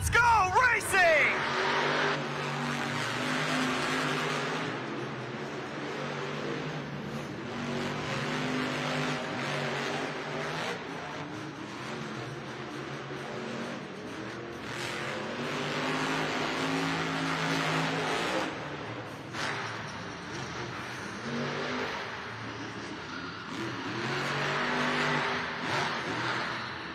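The JCB Digatron monster truck races at a Monster Jam arena event, its engine roaring and revving repeatedly at a distance under a loud announcer and a cheering crowd.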